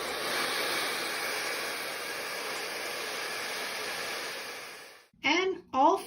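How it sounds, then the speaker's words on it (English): A steady, loud whoosh of a hair dryer running on high for several seconds, then it cuts off and two short bursts of speech follow. "you're just going to start your hair dryer on a really high heat"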